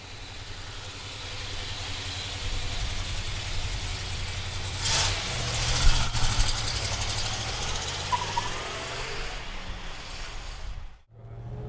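A 1966 Chevrolet Chevelle with a big-block engine and a four-speed manual runs at a steady low rumble, close and fairly loud with no talk, swelling slightly midway before cutting off at the end.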